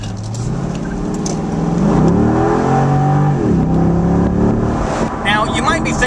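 A 2006 Corvette convertible's V8 revs up and settles in a loud, close burst of rising and falling engine pitch, with someone talking over it.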